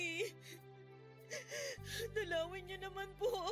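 A person sobs with shaky gasps and whimpers, close by, over a steady tonal musical background.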